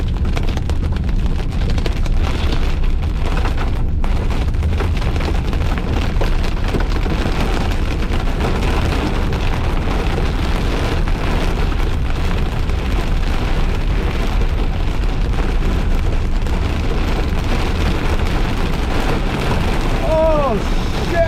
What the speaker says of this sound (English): Oh yeah, look at those. Yeah, big time hail.